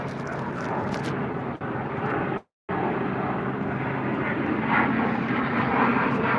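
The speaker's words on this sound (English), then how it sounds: "That jet had to have landed." A jet airplane passes overhead as a steady, broad roar that holds throughout at moderate loudness, broken by one brief dropout, with no speech over it.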